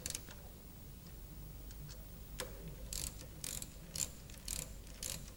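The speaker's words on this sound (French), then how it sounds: "serrer les boulons au couple" A wrench tightens the oil pump bolts on a Rover 100 diesel engine, giving quiet ratcheting clicks and short metallic rasps in a faint workshop, with a cluster of sharper ratchet strokes in the later seconds.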